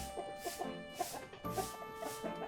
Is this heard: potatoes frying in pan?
no